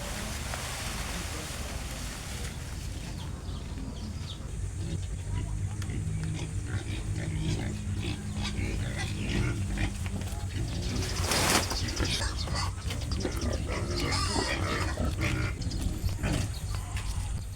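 Pigs grunt in a new pig pen on a farm, low snorting oinks scattered throughout, mixed with rustling, handling noise and a person talking nearby.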